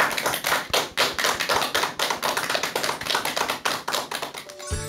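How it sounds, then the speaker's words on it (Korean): Audience applause before a lecture by a Gachon University professor, a sustained, fairly close patter of many hands clapping that runs steadily until an abrupt cut at the end. "박수 부탁드립니다."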